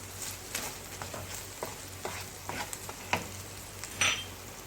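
A spoon stirs pizza sauce seasoned with salt in a pan on a tawa, scraping and clicking in short irregular strokes over a steady low sizzle, close and fairly quiet.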